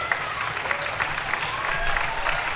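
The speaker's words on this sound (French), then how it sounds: "On va l'applaudir très fort." An audience at a book prize event applauds an author with sustained, even clapping and a faint murmur of the crowd underneath.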